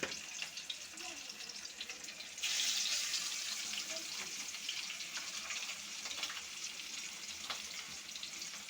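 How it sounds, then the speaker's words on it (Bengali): Rohu fish pieces are lowered into hot oil. A soft background hiss jumps into a loud, close, continuous sizzle with scattered crackles that carries on steadily to the end. "তেলটা গরম হয়ে গেছে, এখন মাছগুলো ভেজে নেব।"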